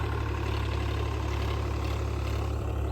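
A steady, loud low tractor engine rumble idling continuously without change, with no voices.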